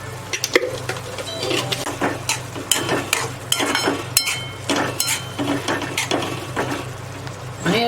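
Guar (cluster bean) vegetable with coconut being stirred in a pan, a steady run of close scraping and clinking of a spoon against metal over a low constant hum, with no talk.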